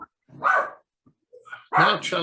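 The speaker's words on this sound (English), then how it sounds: "Sorry, it's my dog." A pet dog barks a few sharp times close to the microphone, with short gaps between them, during a spoken conversation.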